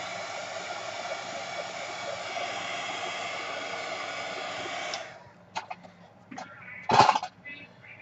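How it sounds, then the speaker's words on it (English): A hair dryer blows steadily on a journal page for about five seconds, a loud broadband whoosh, then cuts off, leaving faint rustles and a brief burst of speech. "Hit it with a dryer."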